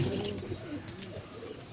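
A pigeon coos softly in low, rolling phrases, close by, with faint chirps from other birds behind and no talking.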